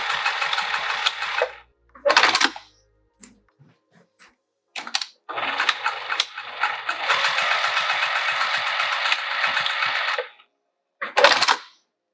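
A sewing machine stitches a fabric bag in loud close bursts of rapid mechanical whirring, a long run in the middle and shorter runs at either end, separated by near silence.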